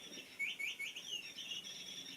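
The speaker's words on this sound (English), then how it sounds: "You're going to be hearing a chirping toy that Molly is carting around." A small chirping toy gives faint, high squeaky tweets in quick repeated bursts, heard close in a quiet room with no talking.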